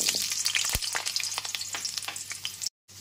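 Cut, washed potato pieces dropped into hot oil and frying, a dense crackling sizzle with a few stirring clicks, ending in a brief silence before the frying resumes more quietly.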